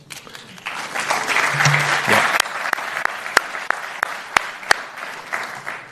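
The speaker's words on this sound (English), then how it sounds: "I should say save your applause" Audience applause at the New York edition of the Lahore Literary Festival, hosted at the Asia Society, a dense steady clapping from a full room that swells and holds for several seconds, with a brief spoken word near the end.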